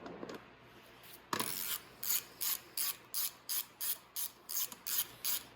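Headlight bolts on an X21 50cc motorcycle are tightened with a ratchet wrench, producing a close, crisp series of about a dozen evenly spaced clicking bursts after one sharp initial click, with no talk.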